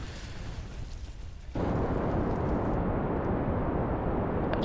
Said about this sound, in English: I heard something explode